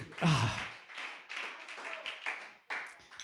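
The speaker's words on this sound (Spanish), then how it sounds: "Dale un aplauso al Señor." A church congregation claps in rhythmic bursts, with several separate waves of hand claps of moderate loudness and a few voices mixed in.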